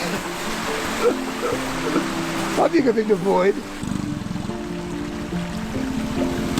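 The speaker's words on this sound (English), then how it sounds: "I wanted to put it to one final test, the creek crossing." An off-road tractor crosses a creek, its engine rumbling steadily while water splashes and sloshes around it partway through; someone speaks briefly over the noise.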